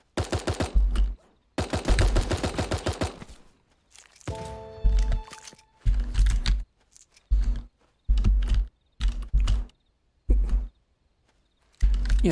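Dual pistols in the game Super Animal Royale fire in rapid bursts of sharp shots, with short pauses between volleys and a brief tonal game sound in the middle.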